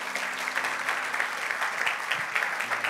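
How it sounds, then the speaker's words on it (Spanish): Church congregation applauding at a pastor's family-themed service, a steady wash of many hands clapping, moderately loud and even throughout with no talk over it. "fuerte un aplauso"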